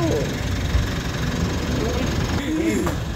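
A Mitsubishi SUV diesel engine idling after an EGR valve and intake manifold cleaning, steady low rumble and rattle, while someone talks briefly over it.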